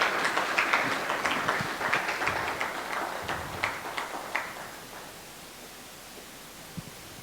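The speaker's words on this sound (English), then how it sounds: "Please, one more time, another round of applause for Mr." A conference audience claps for a speaker, steady applause that thins out and fades over several seconds to a few scattered claps and faint room noise.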